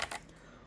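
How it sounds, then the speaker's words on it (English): A couple of quick clicks from an 8-bit DOE retro keyboard, close and fairly faint, fading into a quiet room tone. "we got the keyboard, the 8-bit DOE retro keyboard"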